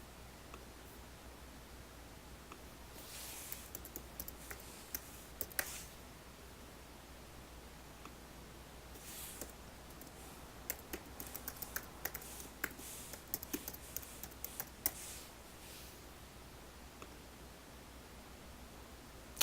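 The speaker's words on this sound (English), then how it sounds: "I'm going to type in the words "change me,"" Typing on a computer keyboard at a faint level, with scattered soft key clicks over a steady hiss and a few denser bursts of keystrokes.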